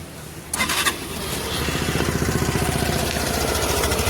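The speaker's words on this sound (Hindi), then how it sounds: "अभी हम इसे कोल्ड स्टार्ट देंगे और फिर आपको इसके एग्जॉस्ट का साउंड सुनाएंगे" A 2025 Suzuki Access 125 scooter with a rusted exhaust cold-starts after a brief crank. It settles into a steady, close putter at idle with an even, rapid exhaust pulse.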